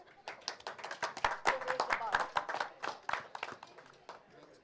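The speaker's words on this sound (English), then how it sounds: "May we please have a round of applause?" An audience gives a round of applause at a conference ceremony during a memento handover, a loose, close patter of individual hand claps that swells in the middle and then thins out.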